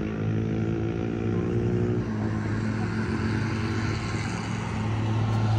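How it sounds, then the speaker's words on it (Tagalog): A motorcycle engine drones steadily nearby as it climbs uphill on a rural road, with a rising whine as the revs shift partway through. "Oh, may motor."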